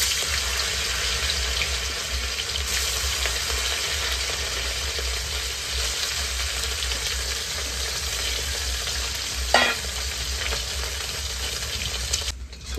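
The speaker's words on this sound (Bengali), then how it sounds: "সেদিকে মাংসটা এখন ভেজে নিচ্ছি" Meat frying in oil in a smoky pan gives a continuous, close, dense sizzle, with a brief clatter near the end and no talking.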